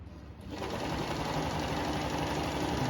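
A Stitch Queen sewing machine makes dense, heavy embroidery stitches with silk thread on a frame. It starts after a short pause and runs as a fast, steady mechanical whir close to the machine, with no talking.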